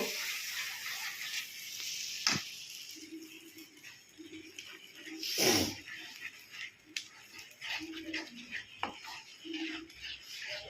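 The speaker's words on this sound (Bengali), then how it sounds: "মশলাটা দিয়ে দিলাম এবার ভালো করে কষাবো" Spice paste for bata fish curry sautéing in a pan: a low, steady sizzle broken by scraping stirs and a few sharp knocks, with faint hums in the background.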